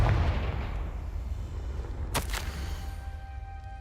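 A Confringo spell explosion in Hogwarts Legacy, heard as a short sharp blast with a bright burst partway through, against a low, steady game rumble.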